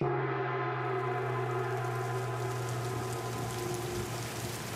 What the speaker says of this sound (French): Une pluie torrentielle s'abattit sur moi.